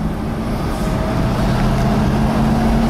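A 1972 Chevelle Super Sport with a four-speed manual runs on a drive, its engine a steady low rumble from inside the car, continuous and fairly loud with a slight rise in pitch near the end.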